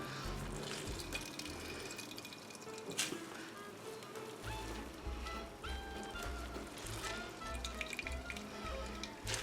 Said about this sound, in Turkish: şöyle acık sıkıştırarak süzmek istiyorum